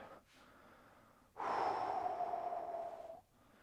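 A person breathing during a hamstring mobility exercise, a long audible exhale lasting about two seconds, close and breathy, after a quieter intake.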